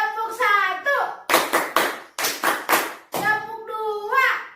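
Children at an online Sunday school service clap hands in crisp bursts of three, two rounds in a row, between stretches of an adult's lively, sing-song speech.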